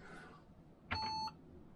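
A retro Intel/AMD 8088 PC, a Monotech NuXT v2, gives a single short electronic beep, faint and clean against a quiet room hum.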